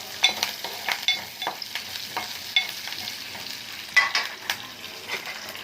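Onion, mustard seeds, curry leaves, fenugreek and garlic crackle in hot oil as a tempering for fish, with irregular stirring scrapes and popping over a soft sizzle, fairly quiet and without speech.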